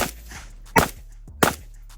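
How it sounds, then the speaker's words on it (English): A PSA AK rifle fitted with a 5.56 muzzle device fires two sharp, loud shots about two-thirds of a second apart, each a sudden crack with a short ringing tail. "let's just shoot with the muzzle device on to make sure it works"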